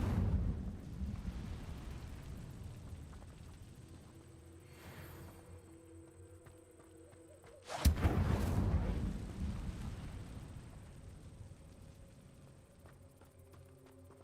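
A fire spell cast in Hogwarts Legacy erupts as a sudden loud whoosh-like burst partway through, standing out from a low rumbling game ambience and then trailing off.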